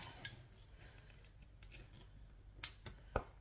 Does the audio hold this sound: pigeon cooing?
no